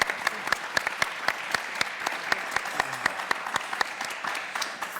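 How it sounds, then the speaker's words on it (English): Applause for the panelists at a security and civil society conference: a hall full of clapping with distinct sharp individual claps over a softer crowd wash, steady and moderately loud. "So massive round of applause for everyone"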